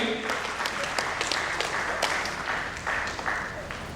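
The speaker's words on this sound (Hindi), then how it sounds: "जोरदार ताली" Loud applause from an audience at an honoring ceremony where guests are presented with shawls, steady dense clapping running the full length with a few sharper claps standing out.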